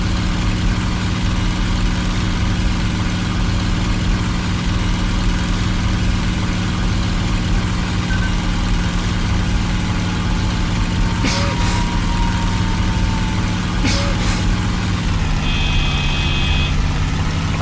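P-51 Mustang with Merlin engine in a flight simulator game, a steady droning engine note at constant power with brief tonal blips and a short warning tone near the end, no talk.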